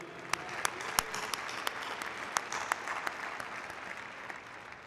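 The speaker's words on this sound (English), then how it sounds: "How about a round of applause for the parents?" Audience applause at a university ring ceremony: a sustained wash of clapping from a large crowd in a hall, with a few sharper individual claps standing out near the start.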